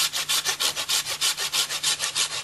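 A hand saw cuts through a limb of a mature pistachio tree during pruning, with about a dozen steady, rhythmic rasping strokes, each close and evenly paced.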